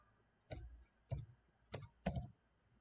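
Four faint, soft keystrokes tap on a computer keyboard as a command is typed. They are spaced roughly half a second apart in a quiet room.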